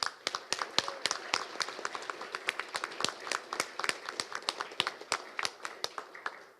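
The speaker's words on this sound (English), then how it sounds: "Give yourselves a round of applause." Scattered hand claps from an audience at a labour conference in Edmonton, sparse and fairly faint, with individual claps distinct at an uneven rhythm.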